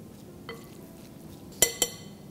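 Fried brown onions and lemon juice being mixed in a pan, with soft stirring scrapes and a couple of sharp utensil clinks against the pan near the end, quiet and close.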